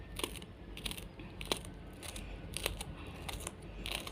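A knife cuts green pepper for manakish on a board, with faint, quiet chopping taps repeating at an uneven rhythm over soft kitchen background noise.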